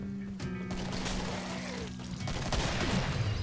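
Hand cannon pistol shots in the zombie shooter Killing Floor, a few sharp reports amid dense game noise and ongoing gunfire, fairly quiet overall.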